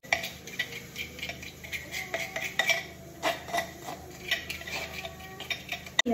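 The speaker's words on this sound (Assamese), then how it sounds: "এয়া দৈখিনি ধুনীয়াকৈ ফেটি ল'ম।" Yogurt being beaten in a bowl for raita with a utensil, making quick irregular clinking and tapping strokes against the bowl, close and fairly quiet, with no talk.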